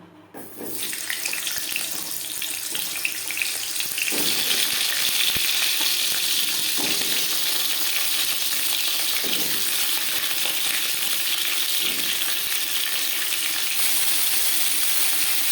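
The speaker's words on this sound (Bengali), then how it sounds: "সবার প্রথমে আমি পটল ভেজে নেব দিয়েছি দু চামচ রিফাইন্ড অয়েল" Pointed gourd (potol) frying in refined oil, heard as a constant loud sizzling hiss that lasts throughout, with a few faint clinks and scrapes from the pan, close by and with no talking.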